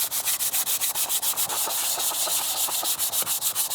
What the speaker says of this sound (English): I've got a sanding block over here with some 220 grit sandpaper, and I'm just going to sand this whole thing nice and smooth